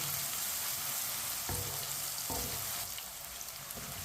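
Steady sizzling of ginger and garlic frying in a hot pan, with a few scraping stirs of a spoon, no voices.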